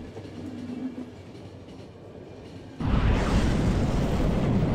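A train in The Final Station video game rumbles with a low, steady hum that suddenly swells into a loud, dense roar partway through, with no voices.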